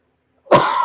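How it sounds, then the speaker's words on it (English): A single short, rough throat clearing bursts out abruptly after a moment of silence, close and fairly loud. "I got to clear my throat again."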